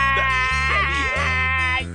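A fly buzzes loudly and close in an animated cartoon, a continuous droning whine whose pitch wavers as it circles, with no voices.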